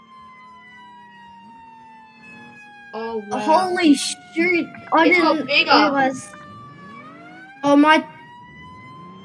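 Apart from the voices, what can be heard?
fire truck sirens in a video game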